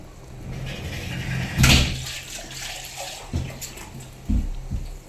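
Water splashes and pours in short bursts into a pot of spiced country chicken sambar, with a louder gush near the middle and a couple of thuds toward the end, close by.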